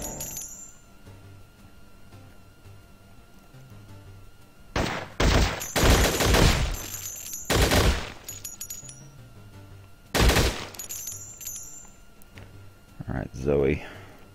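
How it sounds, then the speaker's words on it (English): Video game gunfire rings out while zombies are shot in Infectonator Survivors: a few loud bursts of rapid shots separated by quieter stretches, with metallic clinks and game effects over a low background and a voice speaking at times. "Shoot the zombies, folks. Shoot the zombies. I still got plenty of ammo."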